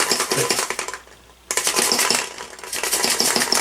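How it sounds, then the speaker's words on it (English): Rice grains rattle and hiss inside a vase, a dense continuous shaking that stops briefly and then resumes, loud and close. "Take the vase, you can hear the rice, can't you?"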